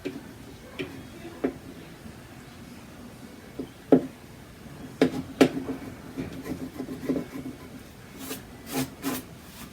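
Scraping tool dragged across hardened cold wax paint on a painting panel, producing irregular rasping scrapes and small knocks, close and fairly quiet, with no talking.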